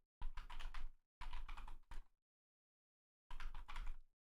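Rapid computer keyboard typing comes in three bursts of dense, clattering keystrokes, close and crisp, separated by short stretches of silence.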